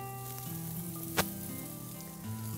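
A ribeye steak sizzles faintly on a Weber grill, a soft continuous crackle with a single sharp tap partway through, under a low steady hum.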